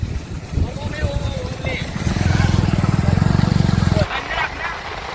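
A motorcycle is ridden outdoors. Its engine gives a steady, pulsing drone that grows louder for a couple of seconds, with rough wind-like noise around it.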